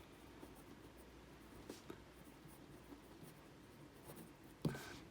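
Handwriting on paper during a chemistry lesson: faint, continuous pen scratching with soft strokes in a quiet room, ending in one brief louder tap.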